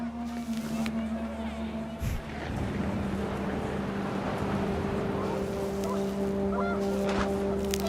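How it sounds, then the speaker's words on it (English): Panicked geese honking in the video game What Remains of Edith Finch, a flurry of overlapping honks rising over gusting wind and a steady low drone, moderately loud and lasting several seconds. "The wind picked up, and panicked geese appeared and quickly went."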